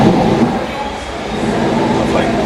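An Aston Martin Vantage S V8 rumbles as it starts up, a loud, steady low roar close by, with voices faintly mixed in.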